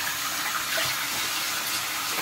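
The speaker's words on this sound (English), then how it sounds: "I'm gonna rinse this off as well so I can get like all the nasty stuff up out of it." Tap water runs steadily into a sink as a facial soap bar is rinsed under it, a close, even hiss of flowing water with no speech.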